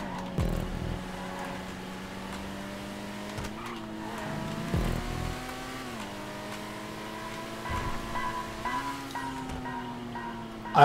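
A car engine in GTA5 Online holds a steady hum that climbs and drops with gear changes, broken by short bumps and a few tire squeals, moderately loud with no talking.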